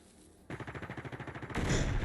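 Rapid automatic gunfire rattles in a steady burst of about a second while enemy machine plants are shot in the Generation Zero video game, followed by a louder wash of noise as the target is hit.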